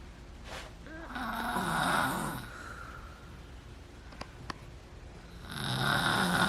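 Colby the dog snores nearby in two long, rasping breaths with a quiet pause between them, close and clear indoors during a bike unboxing.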